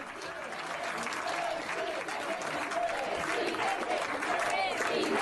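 A crowd in a hall applauds the arrival of Alberto Fernández, a thick, continuous wash of clapping that swells slightly over several seconds, with a few voices mixed into the noise.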